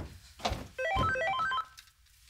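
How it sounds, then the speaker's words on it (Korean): A telephone rings indoors, a short rising electronic ring that sounds once clearly at close range before cutting off, with no talking over it. "전화."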